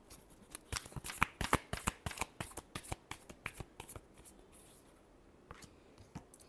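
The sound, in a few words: shuffling tarot cards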